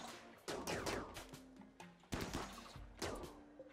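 Gunfire in the RimWorld video game during shooting practice: three sharp, loud volleys of shots with short bursts, spaced about a second apart, with no talking.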